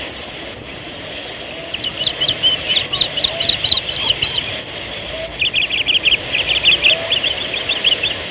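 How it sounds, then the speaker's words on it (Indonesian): Birds whistle and sing in repeated bright chirping bursts at the Batee Iliek nature site, over a steady hiss of insects and a low outdoor background rumble. "Dengar suara siulan burung yang sangat merdu."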